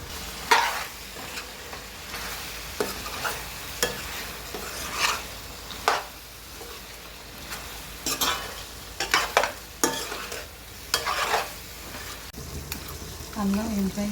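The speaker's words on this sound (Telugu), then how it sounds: "మధ్యలో కలుపుతూ ఉండాలి, లేదంటే అడుగంటుతుంది." A spoon scrapes and stirs bottle gourd cooking in a pot for sorakaya dappalam, making repeated close scraping strokes in an irregular rhythm over a low background simmer.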